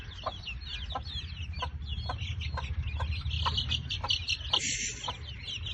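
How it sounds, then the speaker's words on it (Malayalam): A hen clucking in short, repeated bursts while being caught by a child at home, close and fairly faint over a low background rumble, with a sharper squawk near the end. "കോഴിനെ പിടിച്ചിട്ട് കാണിച്ചോൾക്ക്"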